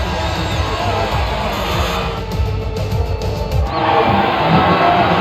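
Crowd cheering at a podium celebration in the racing game F1 25, a loud, continuous roar of cheers and shouts that dips briefly midway and then surges back.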